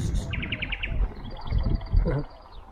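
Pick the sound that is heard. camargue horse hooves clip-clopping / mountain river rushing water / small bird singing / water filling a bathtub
small bird singing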